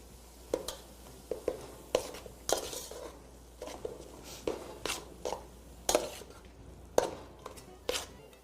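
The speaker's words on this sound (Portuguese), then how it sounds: "Agora nós vamos acrescentar a ora pro nobis picada, 1 xícara. E vamos refogar junto." Chopped ora-pro-nóbis leaves being sautéed into an esfiha filling, heard as a steady run of spoon scrapes and clinks against the pan, with a faint low sizzle underneath and no talking.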